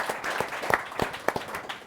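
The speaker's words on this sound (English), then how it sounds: "I think that deserves a clap." Short round of audience clapping during a panel show on Black talent, scattered hand claps of moderate loudness lasting under two seconds, alone without talk.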